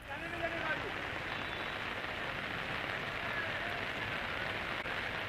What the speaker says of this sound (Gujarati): વરસાદે સપાટો બોલાવ્યો છે,